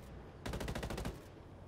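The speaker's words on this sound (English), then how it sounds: "Wuxick is now taking shots at Barkley" Rapid automatic gunfire in a competitive PS4 shooter match, a tight burst of about a dozen evenly spaced shots lasting under a second, fairly close and sharp, with no voices over it.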